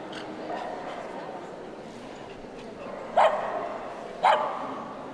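Two loud, sharp barks ring out at a 2012 City of Birmingham dog show in the Utility group ring, with other dogs yapping faintly in the background and a low hall murmur throughout.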